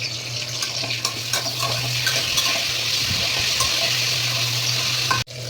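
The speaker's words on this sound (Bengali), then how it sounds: "একদম মশমশা করে ভেজে নিব" Hilsa fish heads fry in hot oil, giving a steady close sizzle and crackle with occasional utensil clinks and a sharp knock near the end.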